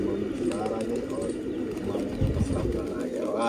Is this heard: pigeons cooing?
yes